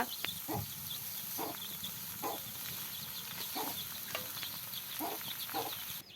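Cabbage being stir-fried in a pan, with repeated scraping strokes of a spatula at a steady rhythm over a constant hiss of frying, fairly close and moderately loud.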